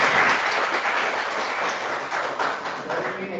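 A class of children clapping together in a classroom, a dense, steady patter of many small hands close by that continues evenly before easing slightly.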